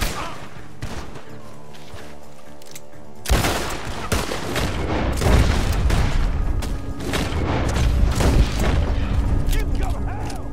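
Gunfire in the Red Dead Redemption 2 game, sharp shots breaking out after a quieter music-backed stretch, then a dense run of repeated bangs and booms over game music and voices.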